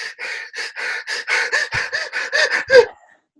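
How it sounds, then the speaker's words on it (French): A person demonstrates rapid, accelerated breathing in about a dozen quick audible gasping breaths, loud and close, in a steady rhythm that speeds and rises into a sharper final gasp before silence. "si on accélère cette respiration-là, eh bien, on va voir vers quelle émotion elle nous mène"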